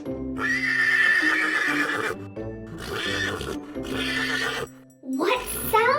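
A horse neighs loudly and close in three long, shrill whinnies with short gaps between them. A rising squeal follows, set in a cheerful farm-animal setting for toddlers.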